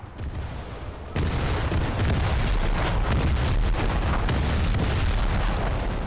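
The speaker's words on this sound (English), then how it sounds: "Even the flak guns are opening up." Secondary batteries and flak guns of the battleship Scharnhorst firing in War Thunder, a dense, loud barrage of booms and rapid gunfire that swells after a brief quieter start.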